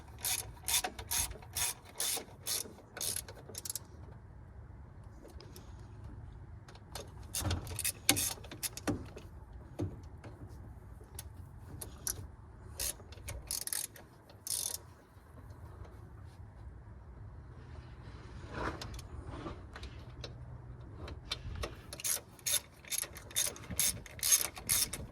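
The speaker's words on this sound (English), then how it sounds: "we're holding it up by the head of the ratchet" A ratchet tightens the bolts on a power steering pump of a 1992-97 Ford F150, clicking in quick, close bursts of rapid pawl ticks, separated by short pauses and a low background hum.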